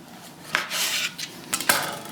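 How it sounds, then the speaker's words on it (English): A sharp knife slicing through a sheet of beef protein noodle dough on a board, a few close, crisp cutting and tapping strokes with short scraping sounds and no talking. "And then you just take your sharp knife and just, this allows you to cut as thin or as thick as you like."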